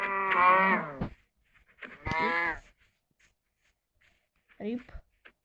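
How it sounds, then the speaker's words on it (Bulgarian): Cows in Minecraft low in three separate drawn-out moos, the first two long and full, the last one shorter and quieter, each standing alone against silence. "Крави."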